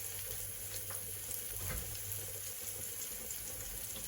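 Steak sears in a hot pan alongside peppers, a faint, steady sizzling hiss with small crackles and a light knock, heard from a little distance with no talking.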